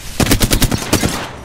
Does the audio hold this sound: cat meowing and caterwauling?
no